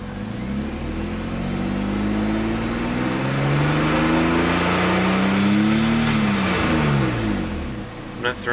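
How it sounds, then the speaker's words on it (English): A BMW E36 328i engine revs up steadily, its pitch rising and holding high before falling back, loud and close with a rumbling, smooth tone. "I love the sound of this car."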